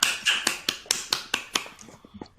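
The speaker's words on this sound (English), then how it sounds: "Can I get a golf clap from all the judges for Architects Plus Plus?" Judges give a soft golf clap, a sparse run of about eight light, separate claps in a steady rhythm, close and moderately loud, thinning out toward the end.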